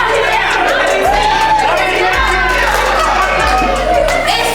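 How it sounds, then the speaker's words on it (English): A room full of people at a children's birthday party cheering and whooping with some clapping, bright excited voices and shouts sustained at a loud level throughout. "Can you give Ranch Rabbit Helpers a big round of applause?"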